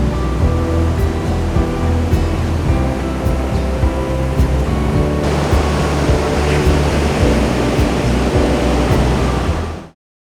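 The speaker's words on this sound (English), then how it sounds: "This one though has a private little beach which is amazing." Waves roll onto a small private beach at a campsite in Namaqua, a loud, continuous wash of surf heard nearby with no talking, cutting off abruptly near the end.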